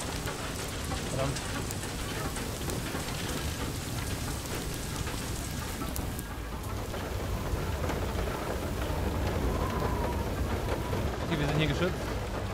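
Heavy hail and rain pound steadily over a rumbling backdrop, with thunder rolling through the storm in the video game Far Lone Sails; the downpour stays dense and loud throughout.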